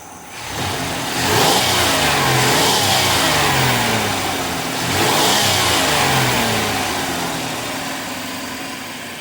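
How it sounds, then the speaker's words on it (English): A running car in an automotive fuel-system lab is revved twice, the engine climbing from idle to a loud rev, settling, then rising again and easing back toward idle, close and clear with no talking. "with the car running, we've got our fuel pressure sitting around 41 psi, hanging around. We'll rev it up"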